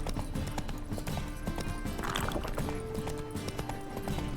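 Roach the horse galloping in Witcher 3, rapid rhythmic hoofbeats pounding close and steady throughout, with a brief whinny-like rise midway and no talking.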